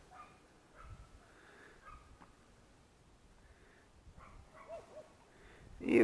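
Dogs bark intermittently in the distance while fish kebabs are being prepared, with scattered faint yips and woofs and a louder burst at the very end.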